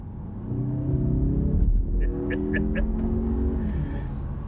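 A 2021 Mazda 3 Turbo accelerating from about 50 mph, its engine note rising steadily in pitch as it pulls, heard from inside the cabin with a short shift-like dip partway through.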